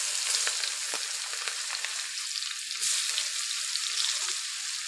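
Chopped onion frying in a pan of oil alongside fried fish for a spicy fish curry, a continuous close sizzle with faint crackles and occasional stirring, no voices.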